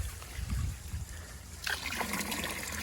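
Water trickles and splashes steadily into a fish acclimator for cichlids being added to a DIY pond, a close continuous pour that grows brighter and busier partway through.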